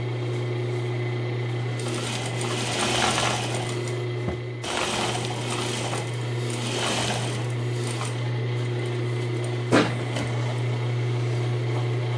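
A sewing machine runs in steady bursts of rapid mechanical stitching through fabric, with short pauses between runs and a low motor hum underneath.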